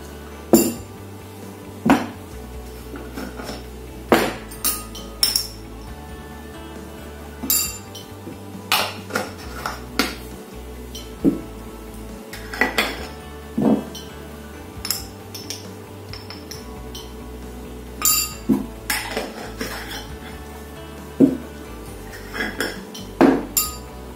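Spoon and utensil clinks against a bowl while white pepper, black pepper and herbes de Provence are stirred together, sharp close taps and scrapes coming in irregular bursts over a quiet kitchen background with no talking.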